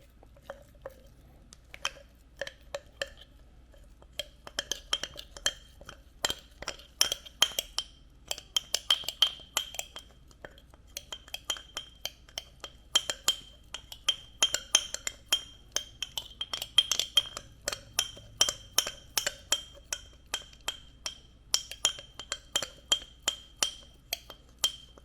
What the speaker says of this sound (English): Next step is to stir. Give it a nice, healthy stir.